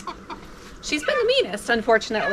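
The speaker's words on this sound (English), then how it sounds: "Can you hear our chickies there? Yelling because they're not together" Young chicks chirp and peep in a rising, wavering series of calls alongside someone talking, the bird sounds close and fairly loud over her voice.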